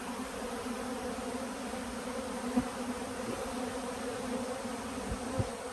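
A steady, moderate drone of bees buzzing all around, continuous and even, with a couple of faint bumps.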